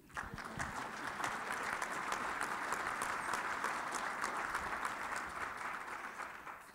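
Audience at a conservative conference clapping in a steady, dense burst of many hands, fairly distant and unbroken from start to finish, with no voices over it.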